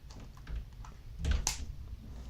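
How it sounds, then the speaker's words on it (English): Scissors snipping through a computer mouse's cable, heard as a few close, sharp clicks and one crisp cut in the middle against low background noise, with no talking. "so I'm going to do that with my scissor,"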